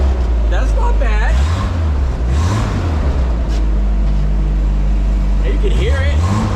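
A Chevrolet S10 truck idling through its freshly welded exhaust, a loud steady low rumble with a couple of rising revs, while people talk over it.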